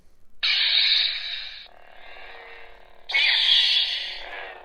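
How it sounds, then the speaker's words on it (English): A Hasbro Obi-Wan Kenobi Force FX Elite lightsaber ignites twice, each time with a bright, loud electronic surge that settles into a lower steady hum. The two ignitions come about three seconds apart, with no talking. "listen to the Obi-Wan Kenobi Force Effects Elite Lightsaber"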